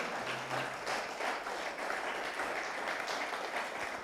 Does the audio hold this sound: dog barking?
no